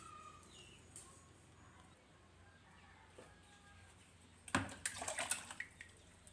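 Water poured into a pot of boiling saba bananas, a sudden splashing, bubbling rush that starts midway and continues in uneven bursts, with faint outdoor bird calls earlier.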